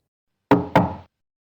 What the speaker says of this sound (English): the prince was already knocking on the castle door